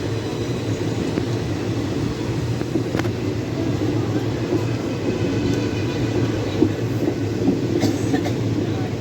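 Sabari Express No. 17230, running between Secunderabad Junction and Thiruvananthapuram Central, rolls along the rails with a steady, loud, low rumble and faint rattling that holds for the whole stretch without a break.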